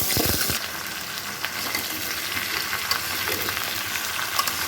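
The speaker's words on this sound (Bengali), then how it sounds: "লাউটাকে পাঁচ মিনিট ভাজবো" Bottle gourd frying in smoking-hot mustard oil for a snakehead fish curry, with a loud hiss as it hits the pan, then a steady close sizzle with light stirring throughout.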